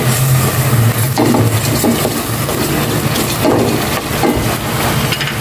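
Continuous crackling sizzle of food frying in oil, with scraping and stirring sounds from a utensil against the pan throughout.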